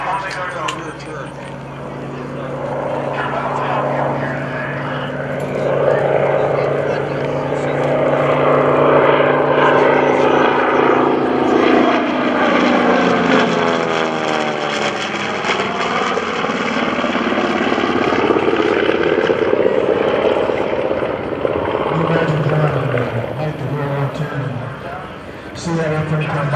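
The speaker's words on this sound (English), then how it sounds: "See that airplane come by and the bomb bay doors open" A TBM Avenger propeller warplane passes at the 2011 Culpeper Air Fest, its loud engine drone building, peaking with a pitch sweep midway, then fading, while people talk over it throughout.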